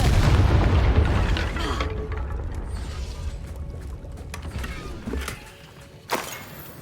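Confringo fire spell blast in Hogwarts Legacy, a heavy booming burst at the start that rumbles and fades, followed by a few smaller thuds and crackles.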